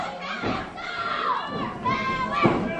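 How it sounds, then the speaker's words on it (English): A wrestling crowd cheers and shouts loudly throughout, a dense roar of voices rising and falling with scattered individual yells on top. "Everyone's cheering on Powers."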